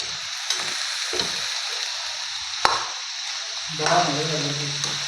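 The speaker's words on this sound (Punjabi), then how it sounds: "ਹੁਣ ਆਪਣਾ ਕੱਟਿਆ ਹੋਇਆ ਕੱਦੂ ਪਾ ਦਾਂਗੇ ਕੱਦੂ ਨੂੰ ਵੀ ਆਪਾਂ ਚੰਗੀ ਤਰ੍ਹਾਂ ਹੁਣ ਮਿਲਾ ਦਿੰਨੇ ਆ" Chopped pumpkin and onions stir-fry in a pan with a soft steady sizzle, punctuated by a few sharp clanks of a ladle against the pan, close up, with a voice briefly heard near the end.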